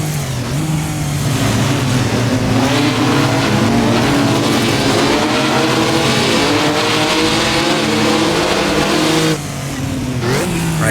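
A Maserati 250F racing engine in a sim racing game roars loud and close, revving up through the gears along a straight with a rising, rasping pitch, then dropping off briefly near the end before picking up again.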